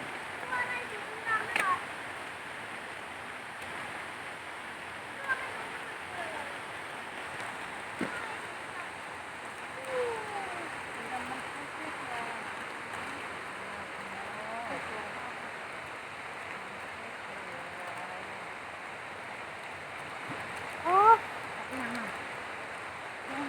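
Ton Sai waterfall gushes as a soft, constant rushing wash, heard at some distance, with occasional voices and small bumps rising briefly above it.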